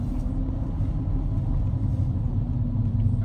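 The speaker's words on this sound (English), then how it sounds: "So that's gradually coming to a stop for regen." Low, steady rumble of a Shark 6 electric vehicle rolling and easing to a stop on regenerative braking, a continuous drone with no pedal or brake noise and no speech.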